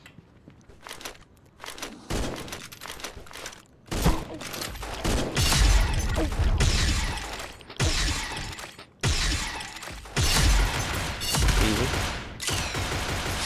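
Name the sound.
gunfire in video game Pixel Gun 3D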